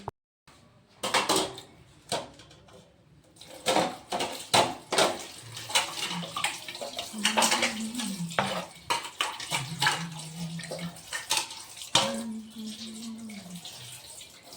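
Utensils being scrubbed and washed at a kitchen sink, with clattering dishes, scraping and splashing water in irregular bursts, while a voice hums along.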